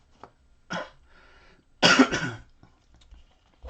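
A few separate coughs up close, the loudest a harsh burst near the middle, with quiet throat sounds in between.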